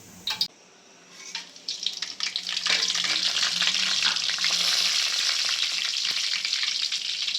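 Whole spices, cinnamon, cloves, cardamom and fennel, hit hot oil after a few knocks and burst into a loud, steady hissing sizzle that keeps going close up with no speech.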